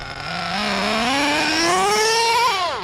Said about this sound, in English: when it's trying to engage second gear, it's like ridiculous bogging.